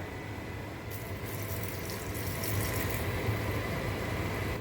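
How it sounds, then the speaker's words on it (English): Water is poured into a pot of turkey chili on the stove, a steady soft splashing and gurgling stream close by, with no talking. "Next, we're going to add some water."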